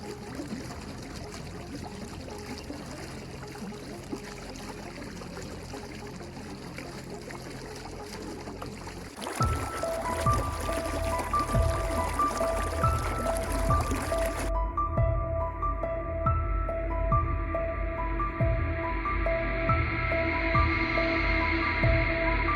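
Water gurgling and flowing at a village pond, a steady rushing trickle that grows louder and fuller partway through, with a tonal hum running beneath it.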